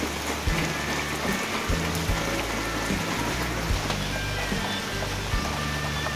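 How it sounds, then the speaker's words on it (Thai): Heavy rain pours down steadily and loudly for the whole stretch, a dense close hiss of drops on surfaces with occasional heavier thumps and no voices. "วันนี้ฝนก็ตกนะครับ ก็ตกเยอะพอสมควรนะครับ"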